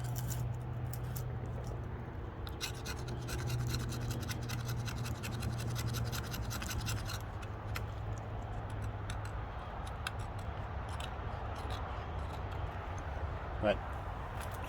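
A knife spine scraped along fatwood to make fine resinous dust gives quick, rhythmic rasping strokes close by, under someone talking throughout.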